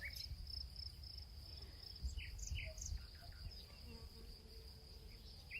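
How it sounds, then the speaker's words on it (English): Outdoor ambience with a steady high insect or cricket drone and scattered faint bird chirps, plus low wind rumble underneath. "You hear the birds in the air."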